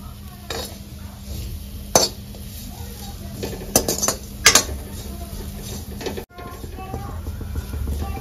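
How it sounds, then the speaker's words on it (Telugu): Tamarind fried and stirred in a pan for curry leaf powder, heard mostly as metal spoon scrapes and clinks against the pan over a low background hiss, with a few sharper knocks, nearby. "చింతపండు వేసుకొని దీన్ని కూడా ఫ్రై చేసుకుందాము"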